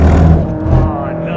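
A Mercedes-AMG GT3 race car powers out of a corner on a track, its engine note climbing steadily over about a second and a half, with a voice talking over it throughout.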